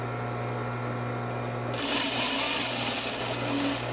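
A sewing machine runs with a steady mechanical hum, then speeds into a louder, fast whirring stitch along a seam, close and continuous.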